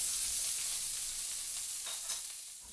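Salmon burgers frying in a skillet give a steady, close hiss of sizzling oil that fades slightly near the end, with a few soft pops and no talking.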